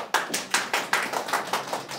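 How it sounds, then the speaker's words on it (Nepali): A few hands clapping at a gathering, a sparse, evenly spaced run of about ten claps, close and crisp rather than a full crowd ovation. "त्यसो भए यहाँहरू सबैको लागि एक जोरदार ताली प्लिज।"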